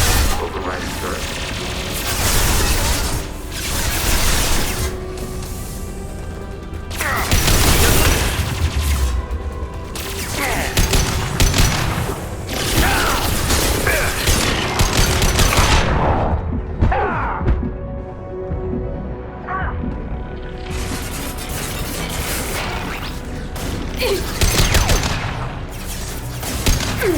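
Bursts of gunfire and heavy thuds from a hacked turret firing in the sci-fi shooter Mass Effect 2, dense and loud throughout with combat effects and a voice talking over it.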